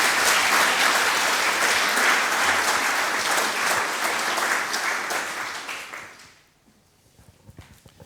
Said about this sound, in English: So give an applause to our sponsors.